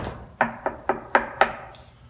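Someone knocks on a door, five crisp, evenly spaced raps close by, with no talking.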